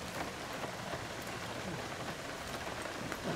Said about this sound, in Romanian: ne plouă prea tare